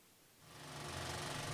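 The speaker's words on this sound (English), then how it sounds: "That is the sound of an IMAX film projector at the Indiana State Museum" An IMAX film projector runs at the Indiana State Museum during a showing of Dune Part 2, its mechanism swelling from quiet into a steady, loud whirring clatter with a fast, even mechanical rhythm.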